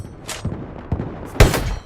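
Several sharp gunshots in the video game Battlefield Hardline crack at irregular intervals, with a loud, heavy blast near the end, over a low rumbling background.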